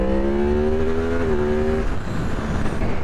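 A 2023 Yamaha MT-10 motorcycle accelerates hard, its engine note climbing loud and close through the gears before fading into wind rush and road noise.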